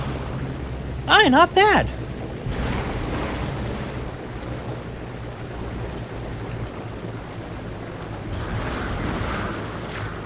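A Spruce Goose flying boat in Microsoft Flight Simulator 2020 plants its nose into the water, giving a loud rushing wash of surf and wind that carries on steadily after a man's short spoken remark.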